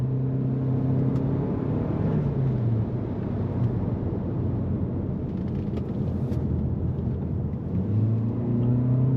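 A Toyota C-HR accelerates hard out of a corner on a twisty road, its engine note rising in pitch as revs climb, a steady loud rumble throughout with a gear change midway and revs building again near the end.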